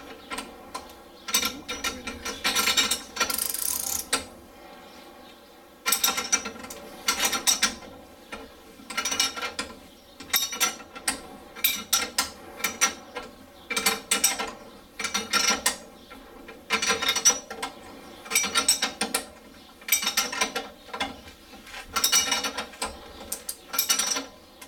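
Spanner ratcheting on the strut top nut of a Ford Focus, repeated close metallic clicking strokes in steady bursts with short pauses between, loud and alone.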